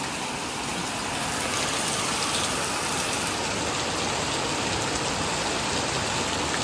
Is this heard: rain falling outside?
yes